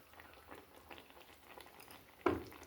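A pot of bottle gourd curry simmers with faint, soft bubbling, then gram flour batter drops in with a single brief, wet splat near the end, in a village kitchen.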